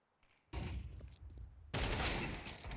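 Gunfire from a Counter-Strike match on the de_Nuke map: a quiet start, then two loud bursts of rapid shots, the second louder and sustained to the end.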